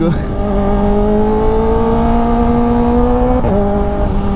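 A Kawasaki Ninja ZX-4RR 400cc inline-four engine holds a high, rising rev with a steady whine, dips briefly near the end, then climbs again, loud and close.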